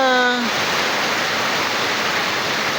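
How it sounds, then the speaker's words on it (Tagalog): Heavy rain pours in a dense, steady roar with no pauses, loud and close, after a brief tonal sound at the very start. "ulan pa rin ng ulan"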